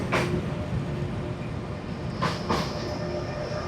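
A train rolls across a bridge in Germany, producing a steady, loud rumble with a few sharp metallic clacks and bursts of screech as the wheels pass.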